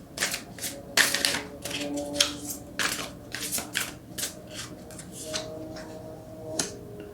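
Tarot cards being shuffled and drawn, giving a run of quick, crisp papery flicks and snaps at close range with a steady faint background hum and no talking.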